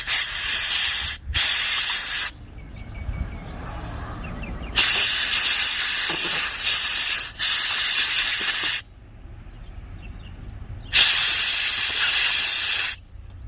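Short bursts of aerosol carburetor cleaner hiss loudly onto small 2-stroke carburetor parts, three separate sprays with quiet pauses between, close and without speech.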